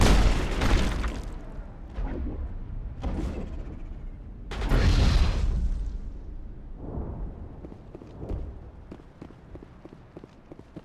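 Grenades explode in the Mass Effect video game, several heavy booms a few seconds apart, each fading into rumbling combat noise.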